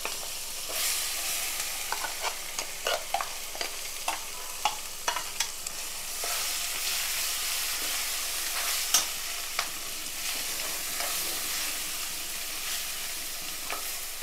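Chutney tipped into a hot tempering with a pinch of turmeric on the stove, giving a steady close sizzle throughout with repeated sharp ladle scrapes and taps against the pan, no talking.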